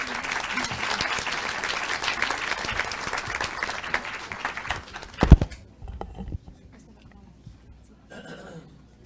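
An audience at a legislative forum claps for several seconds, then the applause thins out and stops, leaving a quiet room with a few scattered sounds.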